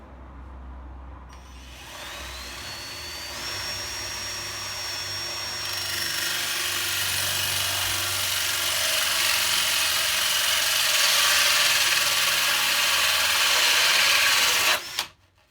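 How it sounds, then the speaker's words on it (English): On a Fiat Ducato van self-build, a hole saw and a jigsaw cut the corners of a window frame. A loud, continuous power-tool whine and rasp builds steadily for about thirteen seconds, then cuts off abruptly, with no talk. "I'm going to use a hole saw in each corner and then join up with the jigsaw"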